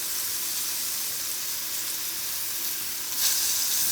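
Chicken, carrots and other vegetables stir-fry in a pan of oil with a steady, close hiss of sizzling that swells briefly near the end as the pieces are moved around.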